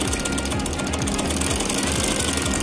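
A sewing machine stitches a baby girl's frock, its needle hammering in a fast, continuous mechanical rattle close to the listener, steady and loud throughout with no pauses.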